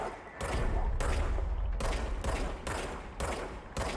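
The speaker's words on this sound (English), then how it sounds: "R2 to fire the service weapon." Repeated bursts of service weapon fire in the video game Control, a rapid volley of loud, booming shots in close succession with brief gaps between them.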